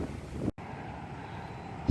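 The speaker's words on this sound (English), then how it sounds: "it's just too windy" Strong wind buffets the microphone on a cool day while cycling through a park, a steady broadband roar with a brief dropout near the start and a heavier gust at the end.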